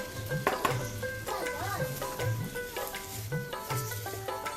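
Banana flower curry (vegetarian mochar ghonto) stirred in a pan, with a soft, steady sizzle of frying and repeated scraping strokes of a spatula, fairly quiet, under faint tonal background sounds.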